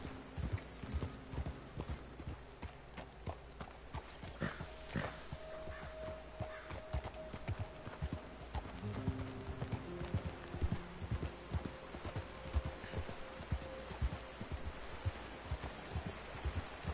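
Horse hooves clip-clop steadily along a dirt road in the video game Red Dead Redemption 2. The even, rhythmic hoofbeats stay fairly quiet throughout, with faint game ambience beneath.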